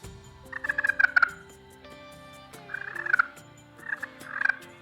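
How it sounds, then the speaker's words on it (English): Glass slate turkey call worked with a striker after its surface was roughed with a diamond pad, producing soft rolling purrs in three separate bursts, close and clear against a quiet background. "Purrs,"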